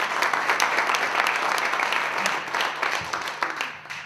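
A crowd at a city State of the City address applauds steadily, dense clapping from many hands filling the room for several seconds before it starts to thin out.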